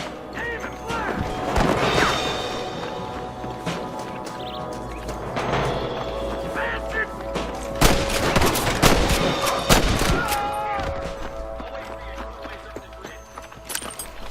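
In a Red Dead Redemption shootout, loud gunshots and bursts of fire mix with horse hoof clip-clops and crashes, while game voices shout over the action throughout.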